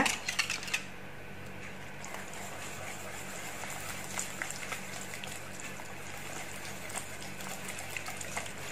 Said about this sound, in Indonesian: Kita aduk sampai rata bersama dengan tepungnya